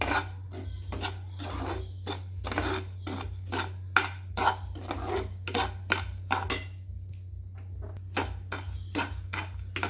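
Semolina (rava) roasting in ghee in a pan, stirred with a metal spoon in a steady rhythm of scraping strokes that pause briefly near the end, over a constant low hum.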